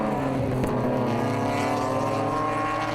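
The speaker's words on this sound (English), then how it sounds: "Gotta love the good-looking E46s taking corners together." Several BMW E46 race cars corner together in a club race at Red Star, their engines droning loudly and steadily as a close, continuous roar with layered tones and no talk.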